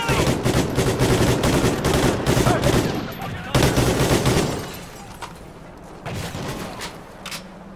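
Sustained automatic gunfire from a Call of Duty shootout in a post-apocalyptic Las Vegas, loud and dense bursts that break off briefly, resume, then thin to scattered shots at a distance.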